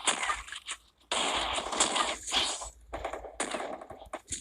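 Free Fire gunfire in training mode comes in rapid bursts of shots, loud and close, separated by short silent gaps and followed by lighter crackling clatter between volleys.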